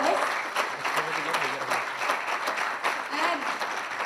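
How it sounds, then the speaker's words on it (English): A crowd applauds steadily, dense clapping sustained throughout with faint voices mixed into the noise. "So are we going to give them a very good hand first of all a big round of applause"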